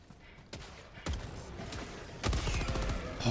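A grenade launcher firing in Helldivers II, giving several quick booming shots and blasts in close succession, loud and near. A dense rattle of battle noise fills the gaps between the bursts.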